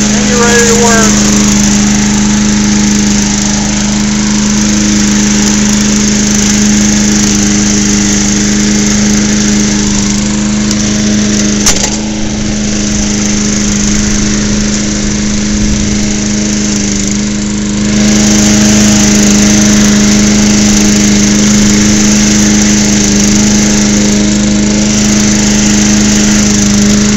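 Small petrol lawn mower engine running steadily at a constant idle hum with a strong low drone, close and loud, briefly dipping midway before settling back to the same even note.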